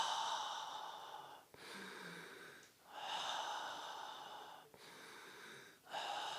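Slow, deep breathing during a relaxation breathing exercise for seniors: four long breathy inhale-exhale cycles with brief pauses between them, close and fairly quiet, with no talking.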